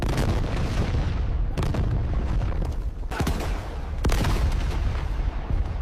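Loud, dense gunfire in a Khmer-language war scene involving Siamese forces, with repeated heavy shots and booming blasts overlapping continuously with no pauses, sharper bursts standing out near the middle and end.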